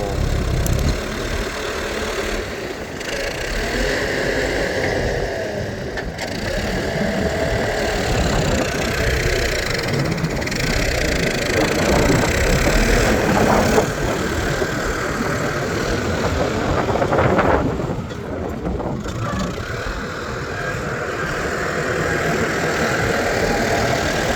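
A Yanmar S75 tractor leveling soil for sugarcane planting in low gear, its diesel engine a loud, steady, close rumble that runs the whole time with slight swells and no talking.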